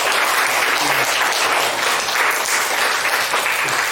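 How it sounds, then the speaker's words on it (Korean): Congregation at a Sunday church service clapping steadily to welcome new members, a dense, continuous wash of applause filling the hall with no talk over it. "우리 박수로 환영하겠습니다."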